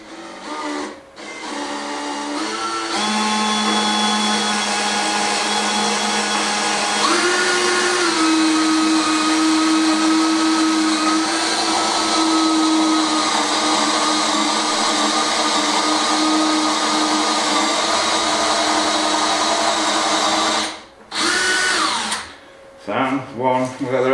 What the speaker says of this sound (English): we've got the rest of them drilled out